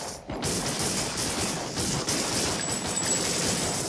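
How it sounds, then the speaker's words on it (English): Gunfire from an episode of the Trigun anime, a dense, nonstop rattle of rapid shots that stays loud and unbroken for the whole stretch, with no talking. "how many times are you gonna shoot, bro?"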